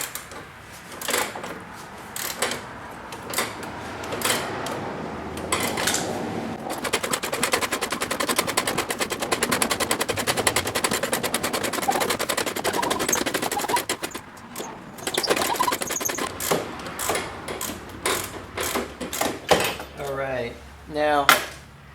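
A ratchet wrench cranks a bolt out of a Pontiac Fiero 2.8 V6 engine: a long run of rapid, even metallic clicking, then shorter bursts of clicks with pauses, close and fairly loud.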